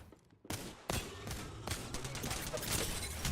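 Knuckle cluster weapons firing in a shooter game, giving a rapid burst of loud, close crackling blasts and bangs that carry on through the end.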